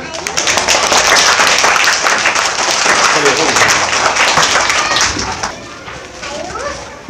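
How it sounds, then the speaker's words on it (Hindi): Schoolchildren clap together in a classroom at a public school in Hazaribagh, a loud, dense burst of many small hands lasting several seconds before thinning out toward the end. "चलिए सब ताली बजाइए एक बार जरा।"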